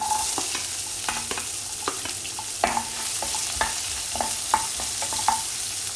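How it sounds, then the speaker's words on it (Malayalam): Onion tumbles into hot oil already frying cashews and chana dal for rava upma, with a continuous crackling sizzle broken by repeated sharp scraping and stirring clicks from a utensil against the pan. "ഇനി നമ്മൾ എടുത്തു വെച്ചിരിക്കുന്ന ഉള്ളി അതിലേക്ക് ഇട്ട് കൊടുക്കാം"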